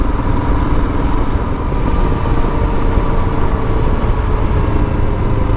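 A Royal Enfield Himalayan motorcycle engine drones steadily and loudly, with a constant low rumble and no break for the whole stretch.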